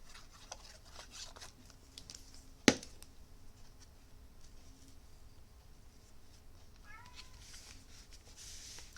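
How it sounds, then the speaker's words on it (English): A male house cat meows faintly indoors in a few soft, brief calls near the end, after one sharp tap in an otherwise quiet room. "My cat is meowing."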